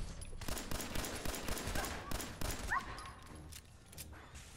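Fallout 4 gunfire hits a pipe: rapid, fairly quiet bursts of shots with metallic pinging impacts, fading toward the end.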